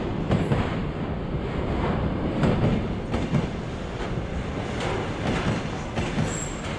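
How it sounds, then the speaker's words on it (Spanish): A long Russian freight train on the Trans-Siberian railway rumbles past, with a steady broadband roar of rolling wagons and faint repeated wheel clatter at moderate distance, no voices. "Las formaciones de los trenes cargueros llegan a tener hasta 120 vagones."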